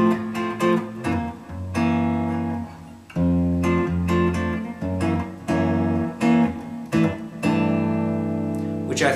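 A sequence of jazz chords, closing on a C6/9 voicing over a G bass. About a dozen sustained, ringing chords are struck in an unhurried rhythm, with no talking.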